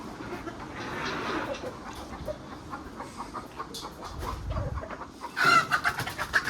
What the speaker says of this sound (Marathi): इकडं कोंबड्यांची लगबग.